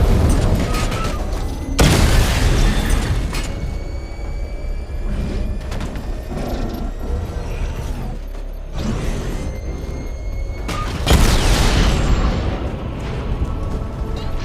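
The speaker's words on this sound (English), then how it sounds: "The bomb's payload is exploded." A bomb detonates in Batman: Arkham Knight, with deep booming bursts and a rumbling blast that swells early and again near the end, surrounded by mechanical clanks and creaks and a loud, dense game soundscape.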